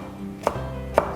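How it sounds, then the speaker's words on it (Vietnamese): Knife chopping fresh cilantro for chicken congee, two crisp separate chops about half a second apart on a cutting board, close and clear with no talk. "Đó, ngò rí ha, cắt vậy."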